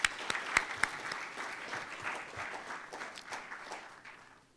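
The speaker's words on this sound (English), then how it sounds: "please join me in welcoming the dignitaries on the dais with a thumping round of applause." Conference audience applauds dignitaries on the dais at an India–Singapore dispute resolution event; a few sharp, close claps open it, then a dense round of applause swells and gradually fades toward the end.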